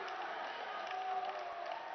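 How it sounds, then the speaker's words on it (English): Robot-competition team members cheer with a faint, distant, muffled wash of crowd noise and whooping that stays steady and low throughout. "cheering by the team members."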